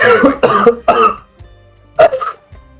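Several harsh coughs in a close burst, then a short pause and two more coughs, with no talking.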